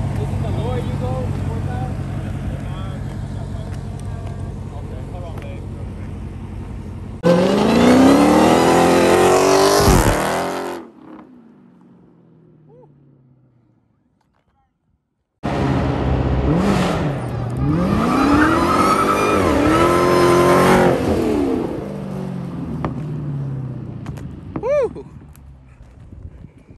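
A Jeep Trackhawk engine roars in two loud bursts separated by a quiet pause, revving hard and surging through rising acceleration sweeps during a launch-control run, with people talking over the idle beforehand.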